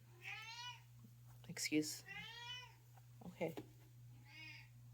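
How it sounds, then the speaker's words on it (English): A pet cat meows several times indoors, clear, harmonic calls spaced apart across the clip, with brief spoken words and low background hum between them. "That was my cat."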